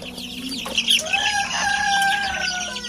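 Three-week-old chicks crowded in a brooder give a steady run of high, rising peeps and chirps with a few louder calls, close by and heard alone without any talk.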